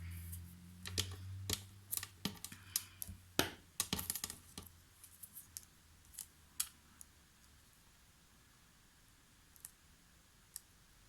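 Paper card edges are trimmed with scissors in a quiet room, a series of close, crisp snips and clicks in an irregular rhythm that thins out toward the end.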